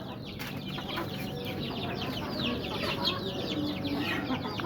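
Chickens in a coop cluck and chatter continuously while being fed, a dense close flock murmur with occasional sharper calls, steady throughout and free of talk.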